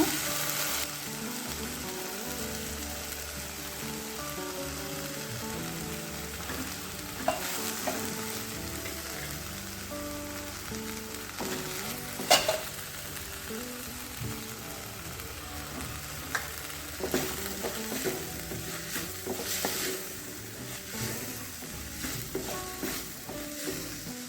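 Chopped tomatoes frying in a pan for a spring onion and moong dal curry, a steady soft sizzle throughout with occasional stirring scrapes and clinks, no talk.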